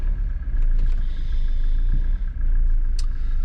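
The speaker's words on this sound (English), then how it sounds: "Where's all this traffic come from all of a sudden?" Road traffic heard from inside a moving car on a motorway, a steady low engine and road rumble with vehicles passing, close and continuous.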